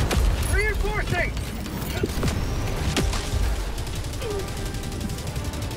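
Robot gunfire in the video game Helldivers crackles in bursts under excited, overlapping voices and other chaotic battle noise.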